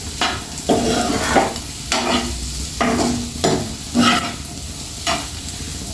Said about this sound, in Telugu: మంచిగా ఫ్రై కావాలి ఇట్లా.